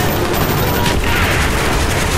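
Machine gun fire in the Call of Duty Black Ops video game, a loud, dense, continuous stream of rapid shots filling the whole stretch with no pauses.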